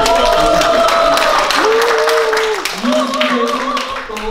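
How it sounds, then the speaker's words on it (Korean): A crowd at a cherry blossom outdoor concert applauds the composer. Loud, steady clapping runs throughout, while voices and a sustained tone carry over the top. "큰 박수로"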